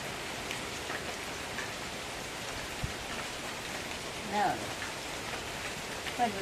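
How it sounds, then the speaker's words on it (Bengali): Steady rain pattering on a surface, a constant hiss with a few louder drips and a faint background voice. "বৃষ্টি কমে না"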